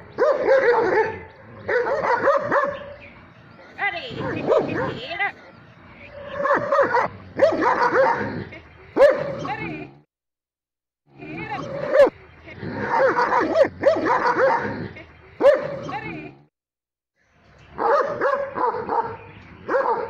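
Three dogs barking at a snake, loud and close, in repeated bursts of rapid barks separated by short pauses.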